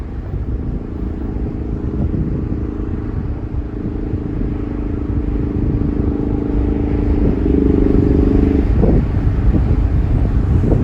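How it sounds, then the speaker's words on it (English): Engine and exhaust of a 2020 Ford Mustang Premium convertible with the 2.3-litre four-cylinder, droning steadily from inside the car while driving, with wind noise and a rise in revs near the end. "Yeah, very interesting sound from the exhaust. I kind of like it."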